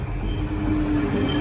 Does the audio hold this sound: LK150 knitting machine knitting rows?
no